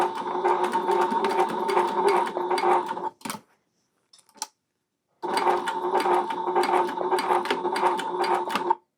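A sewing machine stitches a crescent moon bag seam in two steady runs, close and loud, with a pause and a few clicks between them as the stitching backs up.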